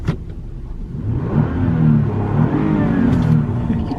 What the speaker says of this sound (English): we got the wheel hop off the line